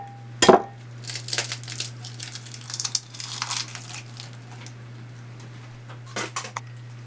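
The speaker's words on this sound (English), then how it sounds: "I'm gonna crack my egg." An egg cracked sharply once on a hard edge, followed by faint clinks and rustles of kitchen handling, before egg wash for soft dinner rolls; a steady low hum runs underneath throughout.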